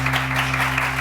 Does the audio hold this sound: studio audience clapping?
yes